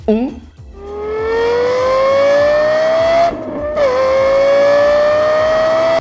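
A Lexus LFA's naturally aspirated 4.8-litre V10 revs loud and close, its high-pitched wail climbing steadily, dipping briefly at a gear change, then rising again toward its 9,000 rpm ceiling.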